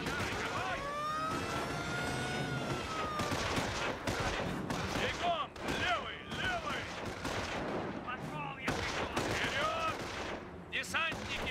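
Dense battlefield gunfire in the WWII strategy game Company of Heroes 3: rapid rifle and machine-gun bursts, with aircraft droning overhead, run continuously at close range while soldiers shout over the noise.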